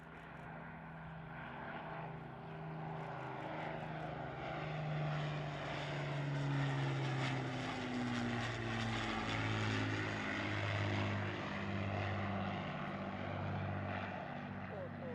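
Avro Lancaster PA474, a 1945-built four-engine propeller bomber, flying a display at RAF Cosford air show; a droning multi-engine roar with shifting, beating pitch swells as it passes, with a commentator talking over it.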